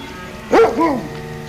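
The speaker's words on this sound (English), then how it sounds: "So what's the matter with that dog?" A dog gives a single loud, close bark with a short yelping tail, alone against a quiet background in an old radio drama set in the Yukon.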